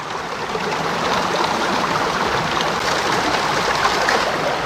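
A gold sluice box in Wicklow roars with a constant, loud rush of water, pebbles rattling and skittering across it in a dense, unbroken wash with no voices.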